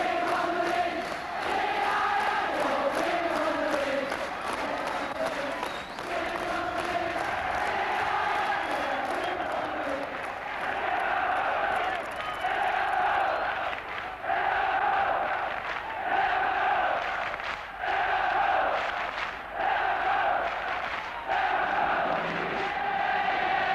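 A large football crowd on the Liverpool Kop chanting and singing together, a massed, rhythmic rising-and-falling roar of voices that carries on steadily.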